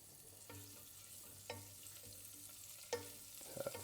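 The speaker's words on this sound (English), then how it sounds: "straight in with our garlic. And we're just going to saute that a little bit, just to infuse really the oil" Garlic sauteing in oil for spinach and ricotta stuffed pasta shells, a quiet close sizzle with a few sharp stirring scrapes and taps from the pan, no talk.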